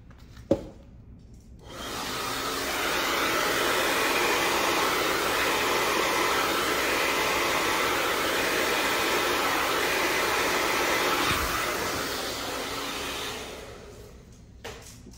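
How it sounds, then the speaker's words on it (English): A hair dryer switches on and runs with a steady, loud broadband whoosh for about ten seconds, then cuts off, with faint clicks before and after. "Also, my hair dryer is intense today."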